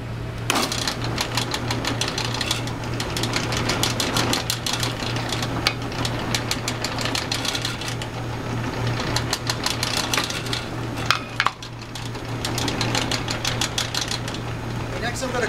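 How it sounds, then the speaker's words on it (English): A power tool chamfers the drilled holes in a shop-made precision router base, giving a steady, loud mechanical buzz with a constant low hum and rapid chattering bursts that continue throughout with brief dips near the end. "I'm just going to put a little bit of a chamfer on each of the holes"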